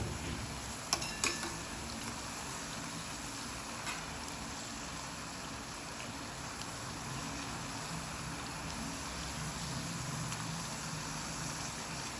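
Urad-chana papdi frying in hot oil gives off a continuous, even hiss and bubbling that holds steady throughout, with a few faint ticks early on and no voices.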